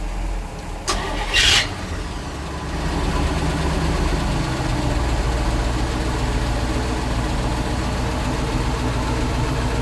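A rebuilt 454 marine engine in a Bertram 31 flybridge cruiser cranks briefly, catches, and settles into a loud, steady, even idle that fills the rest of the clip with no talk over it.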